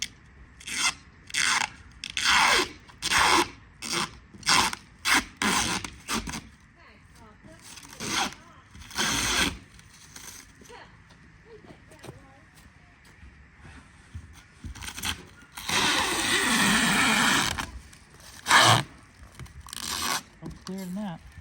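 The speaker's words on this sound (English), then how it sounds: "So let's go ahead and peel the clear off of it." Clear protective film being peeled off new glass: a long series of rhythmic crackling rips and rasps, some short and repeated, one sustained tearing stretch, with talking in between.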